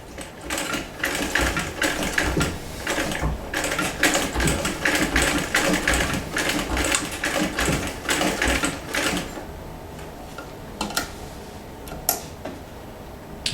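Vintage Singer 206K sewing machine stitching a long zigzag on denim, a fast rhythmic mechanical clatter for about nine seconds, then slowing into scattered clicks and quieter running.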